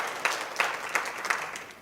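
Audience at a Chamber of Commerce speech claps in a slow, even rhythm, about four distinct beats, with a soft crowd murmur and no cheering.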